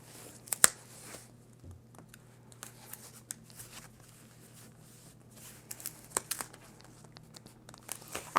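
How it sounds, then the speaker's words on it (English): Paper being slowly creased and pulled down by hand while making a stretchy string mini album, giving soft, faint crinkling and scraping with a few sharper rustles over a low steady hum. "Nice and slow, crease that paper down."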